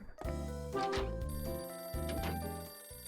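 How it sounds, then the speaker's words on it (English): An in-game telephone rings loudly in the mystery adventure Last Window: The Secret of Cape West, giving two long electronic ring bursts with a short gap between them and no talk. "It's a phone, it's coming from my room?"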